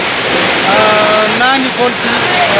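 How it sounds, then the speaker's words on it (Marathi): Water plunging off a cliff face in a green forested gorge produces a loud, constant roaring wash, with faint birdsong and a voice in the background. "हे कड्यावरून पडणारं पाणी"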